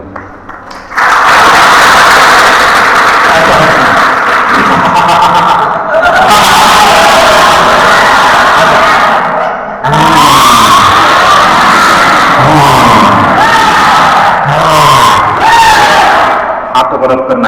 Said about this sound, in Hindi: ताली बजाना है जोर से।